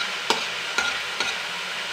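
Drumstick leaves being stirred as they fry in a pan: three distinct spatula scrapes at even intervals over a soft, continuous sizzle, close and quiet, with no talking.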